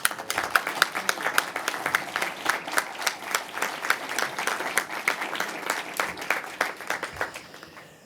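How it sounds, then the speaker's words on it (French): Audience applause at a French assembly on the social and solidarity economy: dense, steady clapping from many hands throughout, moderately near, with a few sharper individual claps standing out before it thins toward the end. "un tonnerre d'applaudissements s'il vous plaît"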